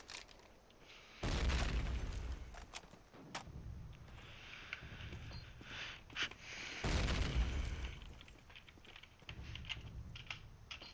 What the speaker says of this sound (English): Nightmare manages to cross into Cafe, now wants to throw the nade inside the church.